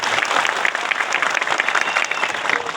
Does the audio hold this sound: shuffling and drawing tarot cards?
no